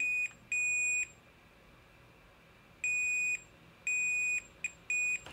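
A multimeter set to continuity test mode beeps during a MacBook Pro backlight repair, giving short bursts of loud, high steady tones that come in irregular groups with gaps of quiet between them.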